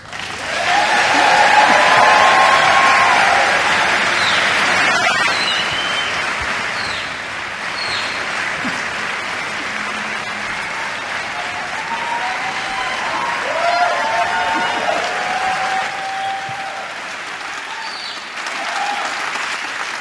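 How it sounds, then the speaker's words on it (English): A theatre awards audience gives a long round of applause, loud and dense at first, then easing slightly and continuing steadily, with scattered cheers and whoops rising above the clapping. "can I ask you that we all give a round of applause"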